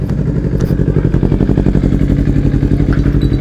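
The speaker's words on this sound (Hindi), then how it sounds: "तो फटाफट निकलते हैं बाइक लेके।" A motorcycle engine idles with a steady, throbbing low rumble, close and loud throughout, with faint clatter on top; no clear start-up or pulling away is heard.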